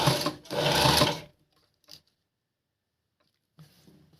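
A sewing machine stitches along a folded blouse edge in two quick close runs, then falls silent, with a faint clatter of handling at the end.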